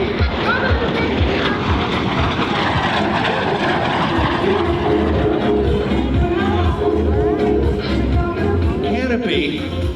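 A Lockheed T-33 Shooting Star jet performs at an outdoor airshow in Smyrna, Tennessee, its loud continuous engine roar filling the air while an announcer talks over it.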